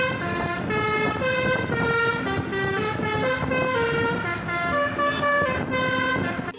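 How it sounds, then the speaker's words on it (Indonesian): A white bus sounds its telolet horn, a loud, bright multi-tone melody of repeated musical honks that continues without a break. "Bus telolet warna putih."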